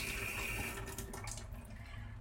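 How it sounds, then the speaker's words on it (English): Water runs steadily from a sink tap while a watercolor paintbrush is rinsed under it, a continuous close splash and hiss with no talking. "You're going to rinse the brush off a little bit with some water from the sink."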